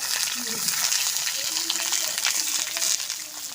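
Pointed gourd (potol) frying in oil in a pan, a continuous loud sizzling hiss with scattered crackles and pops, steady across the whole stretch.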